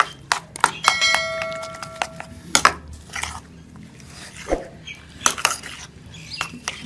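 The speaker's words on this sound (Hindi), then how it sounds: "ये 2 अंडे डाल के इसको अच्छी तरह से मिक्स कर लेंगे" Two eggs are mixed into paratha batter in a bowl, heard as a series of sharp clinks and taps of utensil against the bowl with quieter scraping between them.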